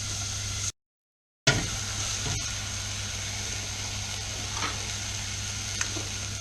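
Onions frying in a pan give a steady, soft sizzle throughout, broken briefly by a short silent gap and a few faint clicks.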